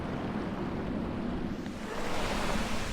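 A waterfall in the video game Tomb Raider: Anniversary pours steadily as a dense, continuous broadband rush of water, loud and unbroken, with no speech.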